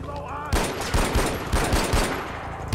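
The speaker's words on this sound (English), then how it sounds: "It's time to pull out the AK 47." Rapid AK-47 automatic fire in the video game Far Cry 4: loud, dense bursts of shots with repeated heavy thumps, continuing almost without a break over a busy game background.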